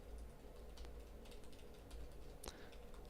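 Steady close-up typing on a computer keyboard, a continuous patter of key clicks over a low constant hum with one sharper keystroke near the end, no talking.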